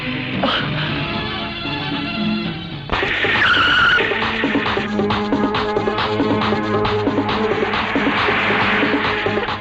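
A speeding car gives a sustained engine roar with tire squeal and skidding. The sound jumps louder partway through and stays busy and dense to the end.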